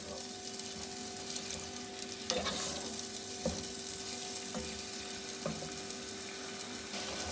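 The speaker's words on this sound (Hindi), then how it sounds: "कलेजी को हम इतना भून देंगे कि इसका अपना पानी जो है वो सूख जाए" Chicken liver (kaleji) frying in hot oil in a pan, a steady close sizzle with occasional louder pops and stirring scrapes throughout.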